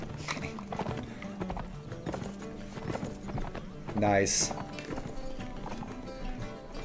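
Horse hooves clip-clop in a Lord of the Rings roleplay video game alongside a short neigh, with a person talking over the sounds throughout.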